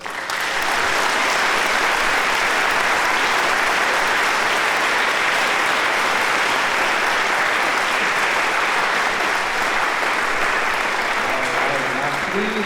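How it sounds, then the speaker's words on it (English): Audience at a high school honor orchestra concert giving sustained, loud, even applause that fills the hall for over twelve seconds. "Another round of applause."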